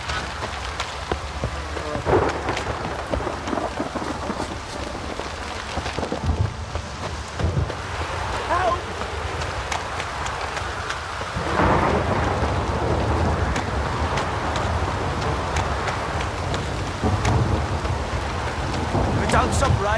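Steady heavy rain pours down in The Witcher 3, with rumbles of thunder rolling through the downpour and swelling louder partway through, a continuous dense storm wash.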